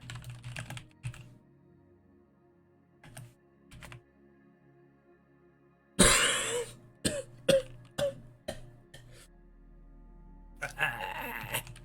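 A person coughing and wheezing in short harsh bursts during a tabletop role-playing session, mixed with clattering keyboard typing and a few quieter voice sounds, close to the microphone.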